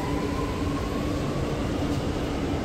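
A metro train at a station platform, a steady continuous rumble with a faint high whine running throughout, fairly close and with no voices.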